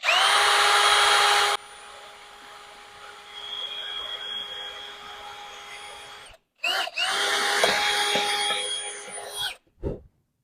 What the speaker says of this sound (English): I'll drill a little hole